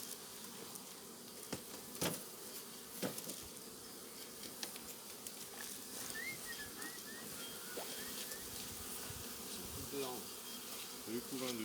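Honey bees buzz steadily around opened hives during a mixed-flower honey harvest, a dense outdoor hum with occasional nearer passes, and faint voices now and then.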